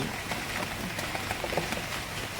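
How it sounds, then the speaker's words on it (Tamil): Heavy rain pours steadily in Panruti on a Karthigai morning, a dense, even hiss of drops on surfaces with small patters scattered throughout and no voices. "ஒரு மழை எவ்வளோ ஜோராக பெய்து பாருங்கள்"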